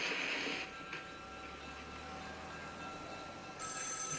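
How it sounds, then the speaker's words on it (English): A telephone bell rings in steady, close bursts, fading out briefly in the middle before the ringing returns loud near the end, with no talking. "Your phone's ringing."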